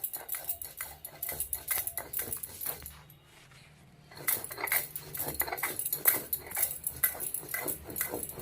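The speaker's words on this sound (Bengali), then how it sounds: "সিলে বাটা মশলার স্বাদ আলাদা হয় বলে আমি আজকে সিলে বেটে দেখাচ্ছি" Spice paste is ground by hand on a stone sil slab for a cauliflower rasa dish, a close, rhythmic scraping and knocking of stone on stone with a short pause midway.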